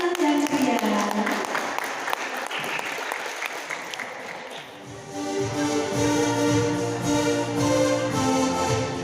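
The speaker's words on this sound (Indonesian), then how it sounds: "beri tepuk tangan yang meriah" A seminar audience at a beauty event bursts into dense, sustained applause that fills the room, then gives way to loud music with steady tones.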